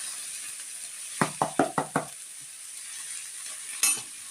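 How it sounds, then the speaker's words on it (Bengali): Ginger and garlic fry in a pan under a faint, steady sizzle, while a utensil scrapes and knocks through five quick, rhythmic stirring strokes, followed by one more scrape a moment later, all close and fairly quiet. "এই যে আদা রসুনটা দিই, একটু ভালো করে লাড়ি দিতেছি।"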